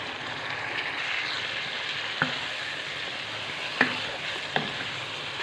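Mutton curry fries steadily in a kadai, giving a continuous close sizzle with a few sharp ticks and clinks from the pan, and no voices.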